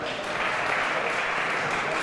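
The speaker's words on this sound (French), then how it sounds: "Basque qui l'applaudit." Steady applause from a crowd at a French championship final, a dense, even wash of clapping lasting a couple of seconds with no breaks.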